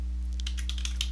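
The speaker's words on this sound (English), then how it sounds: "So you can type in any username you want." Light keystrokes on a computer keyboard as a username is typed during Windows 7 setup in VirtualBox, a quick run of soft clicks over a steady low hum, with no talking.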